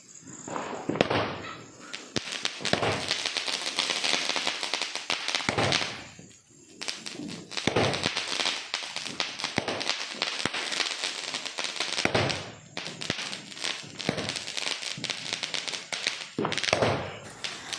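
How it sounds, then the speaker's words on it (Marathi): Firecrackers burst one after another at a Bhau Beej Diwali celebration, sharp cracks and pops coming in dense volleys with brief lulls between them, loud and fairly close. "त्या हो ना फटाके वगैरे फोडायला घेतलेले आहेत"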